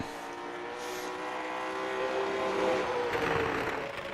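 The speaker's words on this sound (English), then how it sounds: "you hear these cars, they are bouncing right off the rev limiter here tonight" Race car engines at New Smyrna drone and whine in the distance, bouncing off the rev limiter, their pitch rising and swelling as they pass at high revs.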